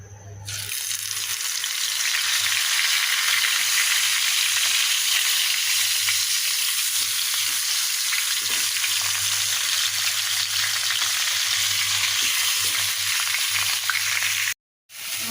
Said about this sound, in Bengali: এখন মাছগুলোকে ভাজি করে নেবো